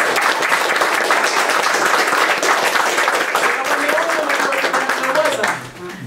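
Steady, loud audience applause in honor of Don Cornelius and Soul Train, dense clapping that holds evenly for several seconds before tapering off as a voice begins.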